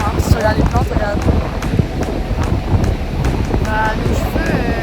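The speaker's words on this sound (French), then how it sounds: "On a un vent parallèle, mais un peu fort." Strong wind buffets the microphone on an exposed stretch of the Great Ocean Road coast, a continuous rough roar with gusty swells, with people talking through it.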